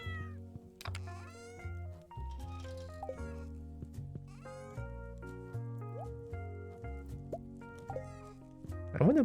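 A cat in the video game Stardew Valley lets out a clear meow against layered, steady background music that continues throughout.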